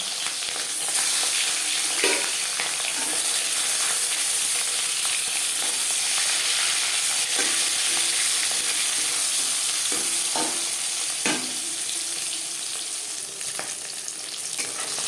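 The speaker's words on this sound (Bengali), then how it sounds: "চার চামচ রিফাইন্ড অয়েল গরম করে নিয়েছি এবার দিয়ে দেব ম্যারিনেট করে রাখা মাছ" Marinated rohu fish frying in refined oil gives a loud, steady sizzle that fills the whole stretch, with occasional sharper pops and spatters standing out.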